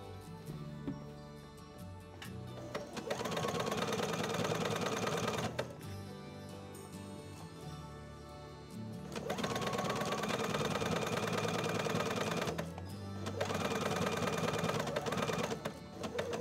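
Sewing machine stitching the corners of a blouson, running in loud, sustained bursts separated by short pauses where the needle stops and the fabric is turned, with a rhythmic mechanical chatter.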